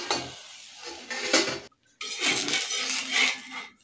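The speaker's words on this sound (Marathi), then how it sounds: "आता आपण याच्यावरचं ताट आहे ते काढूया।" A metal plate lid clatters as it is lifted off a pan cooking ragi thalipeeth, a short clink, a brief silence, then a louder rush of sizzling and scraping metal.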